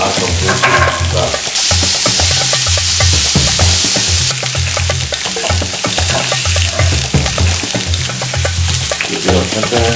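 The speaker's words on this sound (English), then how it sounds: "now this other pan is nice and hot. We're going to toss in our onions." Onions dropped into a hot frying pan sizzle loudly and continuously, a close steady crackling hiss with stirring scrapes through it and no talk.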